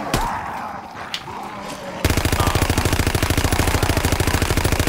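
GDB 79 AR assault rifle firing a sustained fully automatic burst in a WWII shooter game, loud, close and rapid, starting after a short stretch of quieter background sound.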